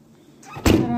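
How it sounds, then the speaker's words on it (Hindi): A household door swings shut with a single sharp thud after a faint rustle, followed by a brief lingering room tone. "दरवाजा बंद कर दिए ना,"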